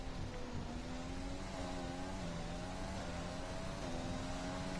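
A race car in a Formula-style racing video game at a Japanese circuit gives a continuous engine whine whose pitch wavers and shifts as it brakes and accelerates. The sound is steady and fairly faint, with no talking.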